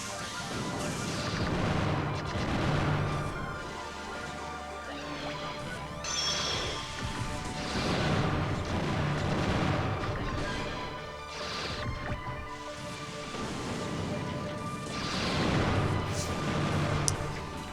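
Repeated bomb-weapon blasts and crashing impacts from the video game Custom Robo, dense and continuous over game music, with bursts recurring every few seconds at steady loudness.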